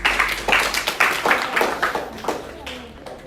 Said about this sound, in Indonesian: tepuk tangan untuk kelompoknya Adil.